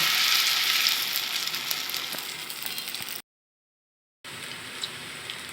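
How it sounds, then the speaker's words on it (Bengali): Battered, stuffed spiny gourd fries in hot oil, a bright, close, crackling sizzle that softens, drops out for about a second, then returns at a lower level. "এবার কাঁকরোলগুলোকে ব্যাটারে ডুবিয়ে তেলে দিয়ে ভেজে নিব"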